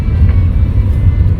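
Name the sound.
car making a noise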